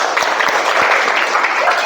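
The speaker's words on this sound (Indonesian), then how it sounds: "Tepuk tangan dulu buat kita semua." Brief burst of classroom applause from a group of students, a dense patter of claps lasting under two seconds, fairly loud and close.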